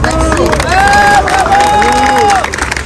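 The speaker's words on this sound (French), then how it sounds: "on peut les applaudir" Outside a company headquarters in Paris, a crowd of striking workers cheers and applauds loudly, with shouts and whistling-like voices rising over steady clapping throughout.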